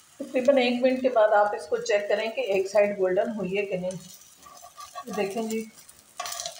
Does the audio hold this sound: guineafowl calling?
no